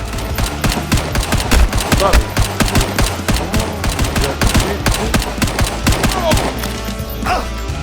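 Rapid volleys of gunfire from the Hard Bullet video game, sharp repeated shots in dense bursts throughout, loud and close with occasional impacts between them.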